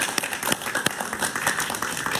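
Studio audience on a Spanish-language talk show applauds a guest, a retired military man, with a dense, steady clatter of many hands that fills the short stretch at moderate volume.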